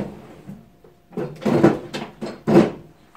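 A desk drawer slides open and shut up close in a quiet room, a few short scraping rolls and knocks in quick succession.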